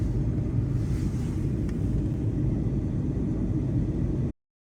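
Steady, dense low rumble inside an airplane cabin on a flight home to Toronto, a constant broadband roar with a faint hiss above it that holds evenly before cutting off abruptly.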